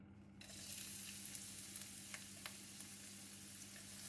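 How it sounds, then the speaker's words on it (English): Chopped onions hit hot onion oil and sizzle steadily in a wok, a soft continuous hiss with a few faint crackles and pops. "Once the oil is really hot, add in all the chopped onions."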